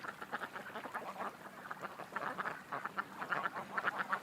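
A small group of ducks keeps up continuous, moderately close quacking at sunset, with busy overlapping calls throughout in a calm outdoor setting.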